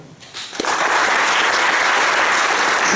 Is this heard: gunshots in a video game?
no